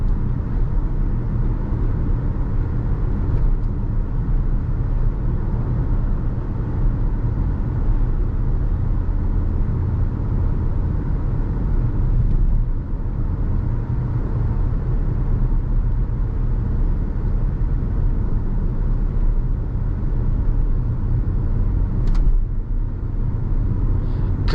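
A 2014 Audi Q7 Premium Plus 3.0T accelerates under load, a continuous loud engine rumble and road noise inside the cabin, with the engine note swelling and easing over a long stretch.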